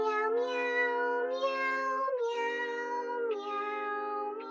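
A voice imitates a cat, singing a little song of repeated meows in a steady, melodic run of drawn-out notes, close and clear with no other sounds.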